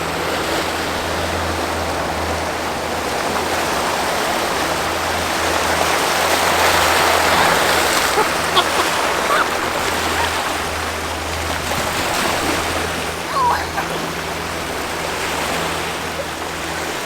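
Water from a passing boat's wake surges back onto the shore in a steady, close, hissing rush that swells for a few seconds before settling back to a continuous wash.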